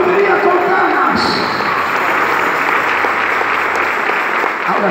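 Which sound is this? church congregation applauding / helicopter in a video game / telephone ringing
church congregation applauding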